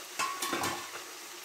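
Buff meat for pickle being stirred and fried in a pan, a steady close sizzle with a few scraping stirs and faint clinks of the utensil, no talking.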